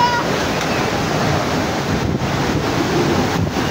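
During a super typhoon, storm-surge waves and strong wind roar continuously and loudly close to the microphone, a dense, churning wash of surf and gusts with no voices.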